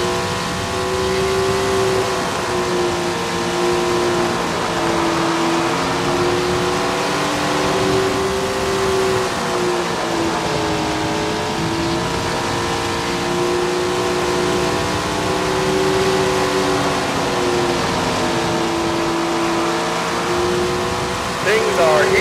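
Sprint car engines drone and whine around the Waterford track in Tony Stewart's Sprint Car Racing, a steady loud engine tone rising and falling with each lap, with a commentator talking over it.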